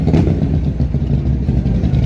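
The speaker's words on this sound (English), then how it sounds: "All the Harleys." Harley-Davidson motorcycles rumbling and revving in downtown Toronto rush-hour traffic, a loud, close, continuous low engine growl with street clatter.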